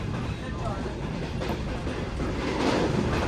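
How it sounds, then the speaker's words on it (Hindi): The Shah Hussain Express rumbles past Chutiyana railway station with a continuous heavy roar and rhythmic wheel clatter, close and loud, with a voice faintly underneath. "तो ट्रेन ने कुछ इस तरह की सिर्फ क्रॉस किया चुटियाना रेलवे स्टेशन को"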